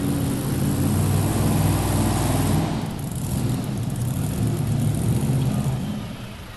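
A pulling tractor's engine roars loud and steady at a farm machinery show tractor pull, a thick sustained blast that dips briefly midway before surging back.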